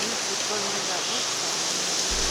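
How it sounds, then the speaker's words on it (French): Heavy rain pouring steadily in Sri Lanka, a dense, even roar of falling water throughout with no breaks. "La pluie continue de tomber abondamment"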